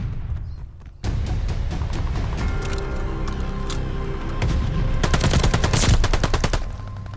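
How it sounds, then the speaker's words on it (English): Rapid automatic gunfire in a Call of Duty Kill Confirmed match, players firing at a pole; a sharp onset of continuous bursts that grows denser and louder toward the end, with dense clatter throughout. "So they've just been standing there and shooting on that pole."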